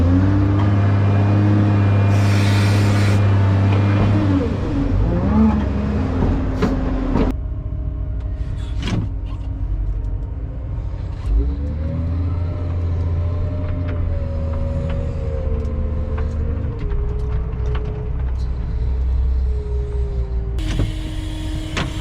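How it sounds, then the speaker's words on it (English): New Holland and Case wheel loaders hauling sand-like material, a continuous heavy diesel drone with engine pitch rising and falling, hydraulic whine and occasional clanks, close and loud. "me and Dad are hauling with both wheel loaders. He's in the New Holland, I'm in the case"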